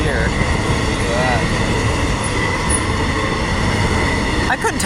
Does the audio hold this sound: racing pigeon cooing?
no